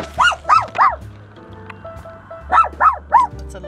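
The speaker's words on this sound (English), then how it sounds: "It's a loud bark." A dog gives loud barks outdoors in two bursts of three quick barks each, close and sharp, with a quiet pause between the groups and a low background hum.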